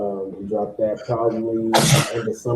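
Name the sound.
sneeze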